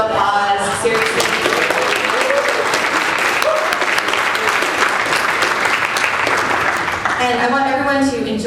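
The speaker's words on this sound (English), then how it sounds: "Let's give them a round of applause, seriously." Sustained applause from a large conference audience fills the room, loud and steady for several seconds, with a voice heard briefly at the start and end.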